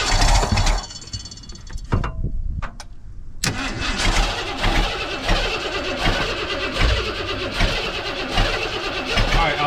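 A 1990 Ford F-250 engine cranks briefly, cuts out, then catches and settles into a loud, steady running idle with a rough, pulsing rhythm, heard up close.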